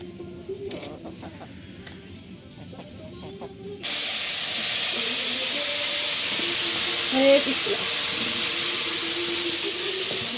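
Rounds of bitter gourd hit a hot frying pan, and a loud, steady sizzle bursts in partway through and keeps going. Voices talk over the frying.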